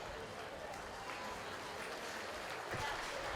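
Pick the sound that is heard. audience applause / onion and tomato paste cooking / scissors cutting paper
audience applause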